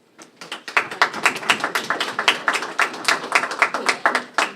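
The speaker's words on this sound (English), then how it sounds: "So let's give an applause to the family" A small audience at a plaque unveiling claps for about four seconds. The claps are distinct and fairly close, starting from quiet and settling into a steady, dense patter.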